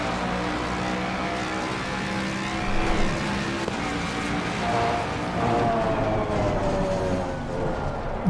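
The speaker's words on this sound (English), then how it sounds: "Rotate in second gear. Short shift to third to accelerate out." A Mustang GT race car in Assetto Corsa Competizione roars loudly at close range, the engine revving, shifting from second to third and climbing in pitch as it accelerates, with faint tyre scrub.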